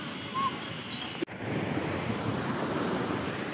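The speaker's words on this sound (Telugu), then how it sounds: "ఇదే వేగటర్ బీచ్." Ocean surf at Vagator Beach in Goa, a steady, broad wash of waves with wind buffeting the microphone and one brief dropout partway through.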